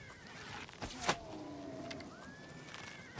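A horse in the video game Oblivion Remastered gives a short neigh and whinny with gliding tonal cries, set against a low game ambience with a couple of sharp thuds and no talking.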